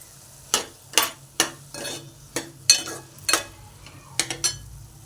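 Bottle gourd pieces being stirred as they fry in a pan for chutney, a spoon scraping and clinking against the metal about a dozen times in an uneven rhythm over a soft background sizzle.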